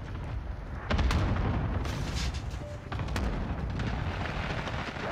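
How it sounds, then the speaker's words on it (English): Precision airstrike explosions in Call of Duty Warzone, heavy booming blasts landing one after another with deep rumbling tails and a few sharper cracks, loud and close throughout. "Enemy precision airstrike, take cover!"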